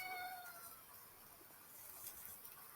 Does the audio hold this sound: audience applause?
no